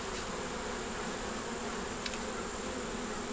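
Honey bees hum around an open nuc hive in a steady, low, continuous buzz, close and fairly quiet, with one brief louder pass of a nearby bee.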